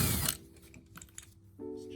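Ratchet loosening the bolts on a two-piece side marker of a Toyota AE86, giving a brief burst of quick clicking followed by quieter mechanical ticks, close by and with no talking.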